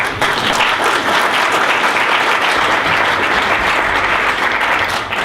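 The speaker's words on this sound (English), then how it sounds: "We should give Colombia a hand of applause just at this moment in time." A conference audience at a Dynamic Spectrum Alliance opening session bursts into loud, dense applause for Colombia, an unbroken roar of clapping from a large crowd close by for over five seconds.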